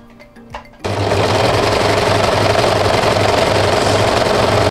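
A sewing machine stitches knit jersey shorts, starting abruptly after a quiet moment and then running as a loud, steady close-up whir with a fast rhythmic low pulse.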